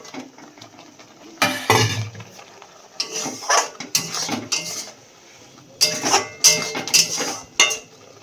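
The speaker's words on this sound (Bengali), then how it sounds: "এবার এই পটলগুলোকে ফেলে দিই" Pointed gourds (potol) are dropped into a cooking pan, with several bursts of clattering and clinking metal separated by quieter gaps, close and fairly loud.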